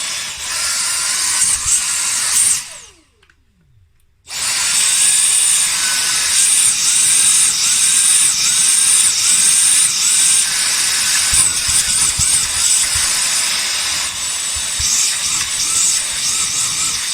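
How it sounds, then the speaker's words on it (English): Dyson DC34 handheld vacuum whirring with a steady high-pitched motor whine, cutting out briefly and then surging back on, pulsing at close range without any talk. "It's very difficult to try and gauge the suction on these things with them pulsing on and off all the time"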